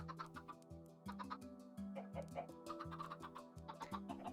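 Chickens cluck and chatter in a Minecraft-style farm game, with steady layered clucks over a looping musical backdrop.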